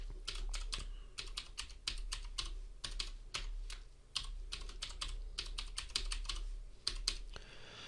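Password being typed on a computer keyboard while installing MySQL on Windows: rapid, close, crisp key clicks in an irregular stream of bursts and short pauses, steady throughout with no talking.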